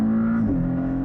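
A Porsche Cayman GTS engine on a launch-control start gives a brief, steady droning whir at constant revs that dips slightly in pitch midway. It is close and fairly loud, with no talking.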